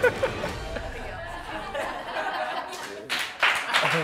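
Audience clapping mixed with crowd chatter and scattered laughter, light and diffuse, swelling into a brief louder burst of claps near the end.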